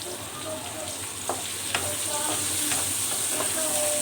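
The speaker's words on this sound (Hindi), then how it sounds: "और अब हम प्याज को भी अच्छी तरह से सौते कर लेंगे।" Onions sauté in a pan with a continuous close sizzle and frying hiss, broken by a few stirring scrapes and clicks.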